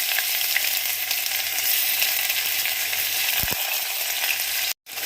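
Mustard seeds, urad dal and onion sizzling in hot oil for rava upma, a steady bright close hiss with a couple of light clicks and a brief break near the end.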